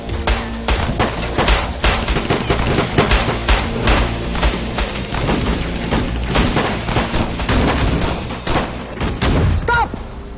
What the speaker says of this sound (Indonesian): Tahan tembakan.